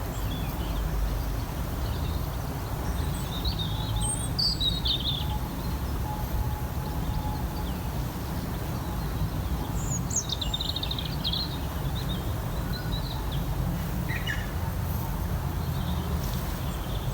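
Scattered bird calls and chirps ring out over a steady outdoor background hum, with short bursts appearing every few seconds and no talking.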